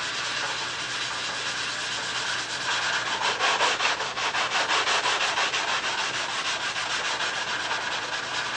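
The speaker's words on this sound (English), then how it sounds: "we're going to block sand that out, obviously. Get a block and some 400." Block sanding a repair with 400-grit sandpaper, a close continuous rhythmic scratchy rubbing of strokes back and forth with no talk.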